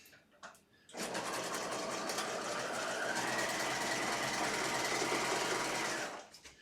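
A sewing machine stitches a rolled hem close to a folded fabric edge, running in one continuous, steady whirring burst of about five seconds after a few faint handling clicks.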